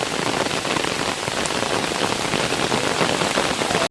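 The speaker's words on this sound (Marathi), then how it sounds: "पळाली पळाली पाऊस आला मोठा" Heavy rain pours down in a dense, even hiss, loud and constant with no break until a sudden cut at the very end.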